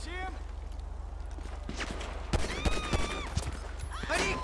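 Rapid bursts of gunfire in a shootout from GTA 5 with the LSPDFR police mod, cracking shots scattered over a steady low engine-like drone, with a voice talking between the blasts and clusters of shots near the end.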